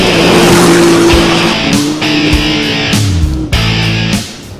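Quad bikes and odd grasshopper-like cars race on a rally through the Jalapão backcountry, engines roaring loud and close with rising and falling revs and tire squeal as the machines accelerate and pass, no talk.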